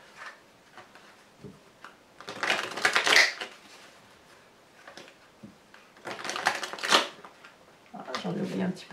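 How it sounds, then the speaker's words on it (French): A tarot card laid onto a base card during a French horoscope reading for Gemini: bursts of paper shuffling and sliding, with soft card handling between them and brief moments of quiet. "carte complémentaire que l'on va poser sur cette carte socle"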